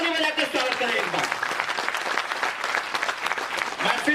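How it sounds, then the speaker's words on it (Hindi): Loud, continuous clapping from a crowd at a national party convention in Mumbai, welcoming newly elected office bearers, dense and sustained throughout with a few voices mixed in. "जोरदार ताली बजा के स्वागत करें"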